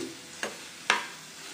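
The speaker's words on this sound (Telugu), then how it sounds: "కొబ్బరి తురుము, ఈ తురుము వేసుకుని ఫ్రై చేసుకోవాలి" Grated coconut frying with broccoli and tomato in a pan, a faint sizzle broken by two brief scraping stirs close by.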